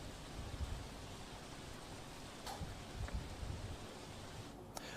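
Heavy rain in Kalol, Gujarat, falls with strong wind as a faint, even hiss of steady rainfall. A few soft knocks and rustles rise slightly above it.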